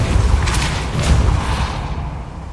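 A Depulso force spell is cast in the video game Hogwarts Legacy, a deep rumbling whoosh with a soft boom that swells and then fades over a couple of seconds.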